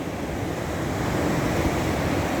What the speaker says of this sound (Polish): O, patrzcie, patrzcie jak tutaj przybija fala.